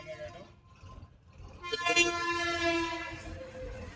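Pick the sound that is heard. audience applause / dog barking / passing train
passing train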